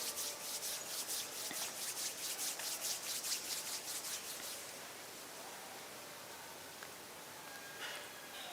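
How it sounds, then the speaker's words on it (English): Palms rub steadily against each other at chest level during a guided relaxation session, producing a soft, rhythmic swishing that fades to quiet room tone partway through. "gently rub the palms of the hands against each other."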